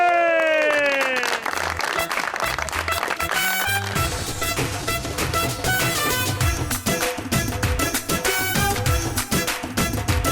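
Studio audience on a talk show claps and cheers to welcome actress Iman Ali, dense applause rising over a loud musical fanfare with sweeping tones and a steady beat, sustained for several seconds.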